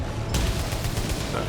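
Turret fire in the PS5 game Returnal: a short, rapid volley of gunshots that starts abruptly and continues as a dense, loud burst over a rumbling background.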